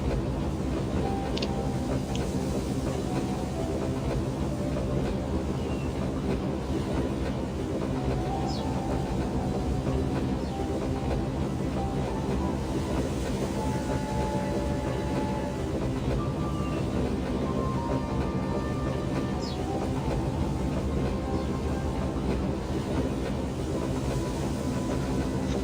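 Steady train ride on rails toward Vienna, a continuous low rumble and rattle of wheels with faint occasional squeaks, constant throughout with no voices.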